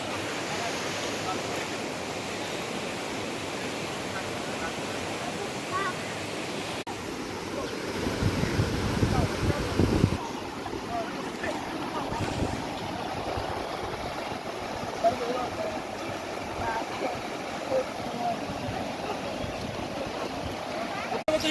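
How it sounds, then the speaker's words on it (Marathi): Floodwater of the swollen Panchganga river rushes past in a steady, broad roar, with wind buffeting the microphone and a brief louder surge partway through. "पाण्याचा फ्लो किती आहे बघा"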